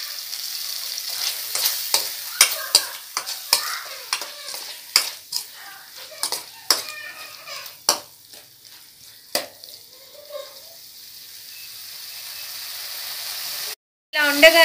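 Chopped capsicum pieces fry in a pan while being stirred, with repeated sharp scraping strokes over a soft sizzle that fades toward the end.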